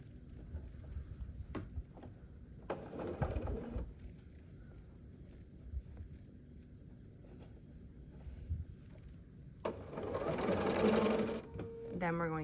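A sewing machine stitches quilt block pieces in two short bursts of rapid whirring, close and moderately loud, amid quiet background sounds.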